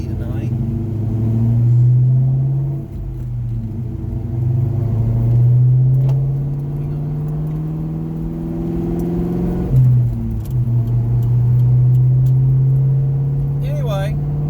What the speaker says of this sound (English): I'm in a manual transmission sports car with a V8 and no traction control